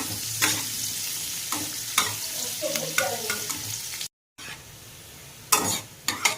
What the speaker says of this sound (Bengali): পেঁয়াজটাকে ভালো করে বেরেস্তার মতো করে ভেজে নেব,